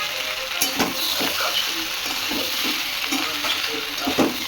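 Paneer pieces stirred and fried in hot oil in a pan for a spicy paneer curry give a steady close sizzle, with scattered spoon scrapes and clicks throughout.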